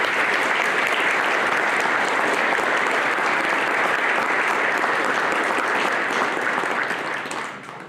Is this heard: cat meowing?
no